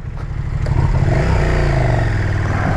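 A 2020 KTM 1290 Super Duke R engine revs up and holds a steady, throaty note, rising over the first second and staying loud and close to the end.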